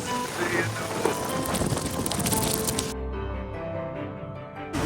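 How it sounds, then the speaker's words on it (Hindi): Heavy rain pours down during a thunderstorm in Hat Yai, Thailand, a dense, hissing roar with crackling spatter that stays loud throughout, then dulls and thins near the end. "बारिश इतनी ज्यादा पड़ रही थी"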